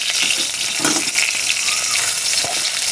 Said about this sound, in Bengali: একটু কড়া করে ভাজবেন